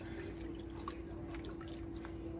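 Halved morel mushrooms being swished around in a bowl of soaking water, giving faint irregular drips and small sloshes over a steady low hum, close and quiet, with no talking.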